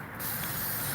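A spray can of white paint lets out one steady, close hiss that starts abruptly and holds without a break to the end.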